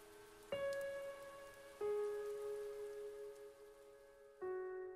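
Steady rain falls in the visual novel game Chaos;Head, a soft continuous hiss beneath sustained piano-like notes that strike three times.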